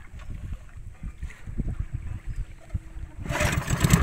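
A boat engine drones steadily during a sea crossing to fetch bamboo, loud and close with rough low rumble and wind, building to a stronger burst of noise near the end.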